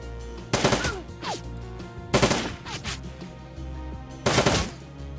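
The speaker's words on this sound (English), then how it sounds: "Okay, it's a flashbang." Flashbang grenade in the tactical game Shadowrun: Dragonfall, going off as three sharp, loud bursts spaced across the clip, each with a short ringing, sweeping tail over a quiet droning score.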